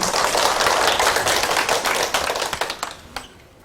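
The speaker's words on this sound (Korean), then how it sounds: "이철원 교수님을 큰 박수로 모시겠습니다." An audience claps to welcome a university professor before a lecture on the Diamond Sutra. The applause is close and dense, then thins into scattered individual claps and fades out.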